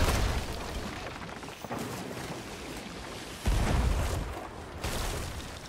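Heavy cannon fire booms in an Hourglass game round, with dense broadband bursts and a few sharper blasts layered over constant battlefield noise, loud and close throughout.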